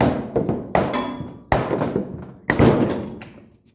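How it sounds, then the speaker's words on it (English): Four heavy metallic hammer blows knock a jack out from under a 24-foot gooseneck trailer, ringing out at a slow, uneven pace, each strike clanging sharply then fading, close and loud. "we gotta get under there with a hammer and knock the jack out"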